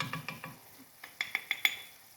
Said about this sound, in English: I'm going to stir this well